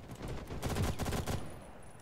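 Rapid gunfire from the video game Ghost in the Shell: First Assault rattles in a dense burst of shots for about a second, fairly loud and alone, then stops.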